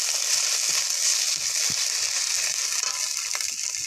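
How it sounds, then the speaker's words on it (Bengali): Ginger paste frying in a pan with onion and garlic, a steady broad sizzle with soft crackles and occasional stirring scrapes, close and continuous with no talking. "আদাটা দিয়েও একটু ভালো করে ভেজে নেব"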